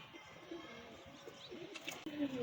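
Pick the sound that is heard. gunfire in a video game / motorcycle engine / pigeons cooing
pigeons cooing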